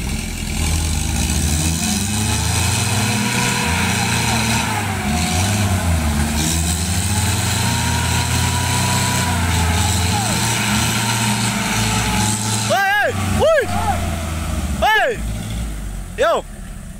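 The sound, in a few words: Toyota Hilux pickup loaded with oil palm fruit revving, stuck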